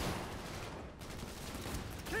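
Gunfire in Cyberpunk 2077 during a trade deal gone bad: a quiet, muffled rattle of shots in a firefight, continuous and distant-sounding, low in level over a short stretch.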